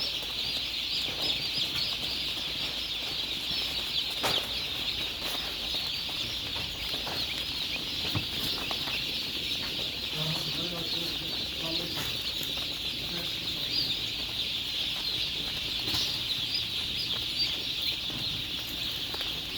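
Dense, continuous high-pitched cheeping from many chicks, with occasional clucks and faint background voices underneath.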